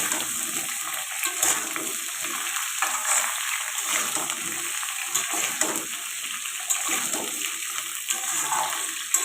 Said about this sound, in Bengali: এখানে দেখো কুমড়োর আলুটাকে একটু ভাজা ভাজা করে নিতে হবে